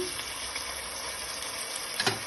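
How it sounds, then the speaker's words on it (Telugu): Lentil cooking water poured into a hot pan with split chickpea lentils and ginger-garlic paste, a steady close sizzle and hiss ending with a short splash. "ఈ నీళ్ళే మళ్ళీ దాంట్లో పొయ్యాలి"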